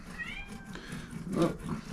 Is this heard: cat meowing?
yes